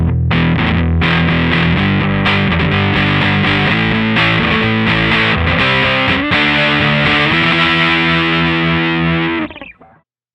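Electric guitar through a Godcity Instruments Brutalist Jr. distortion pedal set low, with a mild overdriven crunch strumming chords and short riffs, finishing on a sustained chord that fades out.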